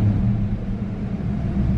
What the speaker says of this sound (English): It revs smoothly.